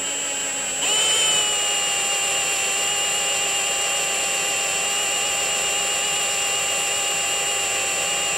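A power drill driving a bit into metal on a Subaru WRX build, starting abruptly after a second and then whining steadily and loudly at a constant pitch, close up and alone.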